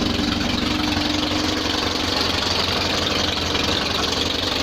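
A small Invacar invalid carriage engine idles with its exhaust clamps left loose, giving a continuous rough, blatting, slightly knocking drone, close and loud throughout with no talk.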